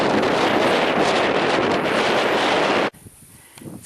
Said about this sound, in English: It's quite a wind.